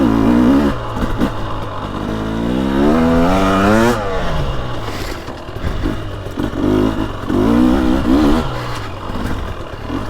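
A 2023 Husqvarna TX300 Heritage Edition two-stroke dirt bike revs loudly and close, its engine pitch sweeping up and down in repeated throttle bursts with clattering between them.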